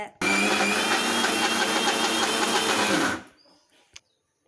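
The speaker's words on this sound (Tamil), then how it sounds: "ஐஸ் வாட்ரு ஊற்றி அரைக்கிறதுக்கு வச்சுருக்கோம். அரைக்கலாம் வாங்க." A kitchen mixer grinder whirs loudly while grinding soaked rice with ice water, a steady high-pitched motor drone for about three seconds before it cuts off and spins down, followed by a small clunk.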